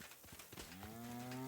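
Cow mooing in the video game Kingdom Come: Deliverance 2: after a second of soft ambient noise, one long, drawn-out bovine moo rises and holds to the end, loud and close.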